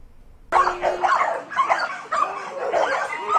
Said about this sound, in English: These pit bulls are just some that came from a Monroe County bust.